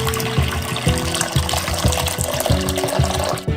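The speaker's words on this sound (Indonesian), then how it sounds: "tuang 2 liter air mendidih" Two liters of boiling water poured into a pot, a continuous gushing, splashing stream that stays fairly loud and close, with a rhythmic knocking pattern running underneath.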